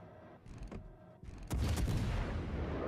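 Naval guns fire in World of Warships: Legends: a couple of sharp distant reports, then a heavy, loud salvo boom that rolls into a sustained rumbling roar.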